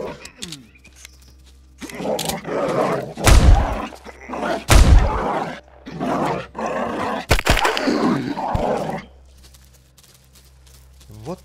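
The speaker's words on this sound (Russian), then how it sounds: "я так понял, тут где-то рядом собака" A stray dog in the online game Will To Live barks and snarls in several loud, rough bursts, mixed with heavy thuds and a steady low hum underneath.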